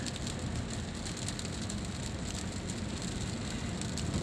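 Steady rain pours down in Al-Khobar, Saudi Arabia, a dense, even hiss of drops on surfaces that continues without a break and without voices.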